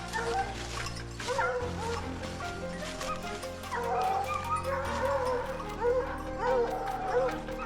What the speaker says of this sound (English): The dogs seemed tireless as they chased the boar back in our direction.